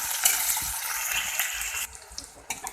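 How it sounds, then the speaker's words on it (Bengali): Chopped onion, green chili and garlic frying in oil in a pan, a dense close sizzle for about two seconds that then drops to quieter crackling with a few stirring knocks. "পেঁয়াজ লঙ্কা আর রসুন কুচি এগুলো আমি খুব ভালোভাবে ভেজে নেব তেলের মধ্যে"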